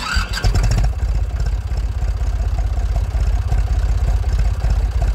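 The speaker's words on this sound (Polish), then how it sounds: "Uruchamiam silnik" A Massey Ferguson tractor engine from Farming Simulator 2019 cranks and catches, then settles into a loud, steady, low chugging idle with a regular throbbing beat.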